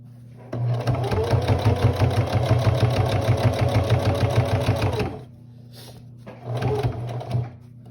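An electric sewing machine stitches a fabric pot holder in a steady rapid run of about four and a half seconds, then stops and gives a second short burst, loud and close with no talk.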